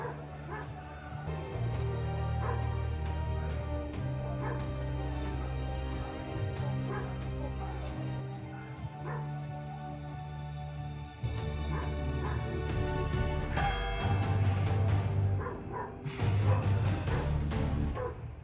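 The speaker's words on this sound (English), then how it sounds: "That dog outside needs to shut up." A dog barks and whimpers outdoors, its yips and bow-wows recurring steadily over loud continuous music and sound.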